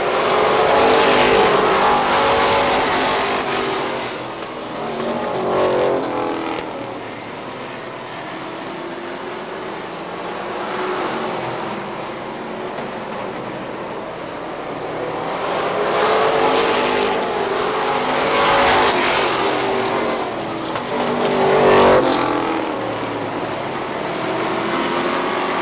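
Race cars circling Star Speedway oval in New Hampshire, engines swelling loudly as the pack roars past, then fading on the far side before surging again in repeated waves, with no talk over the engine noise.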